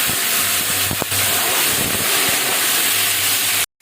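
Water poured into hot oil with light-browned onions sizzles loudly, a dense, steady hiss and crackle that fills the whole stretch before cutting off suddenly.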